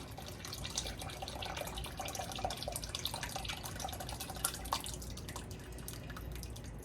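A steady stream of melted beef fat for tallow pours and splashes continuously, with a few brief drips and clinks near the end, fairly close.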